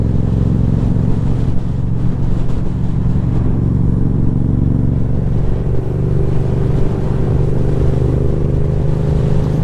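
Toyota Aqua hybrid car accelerating on rough, debris-strewn night roads, a steady loud engine and road drone with a low rumble that holds throughout, heard from close by amid continuous vehicle noise.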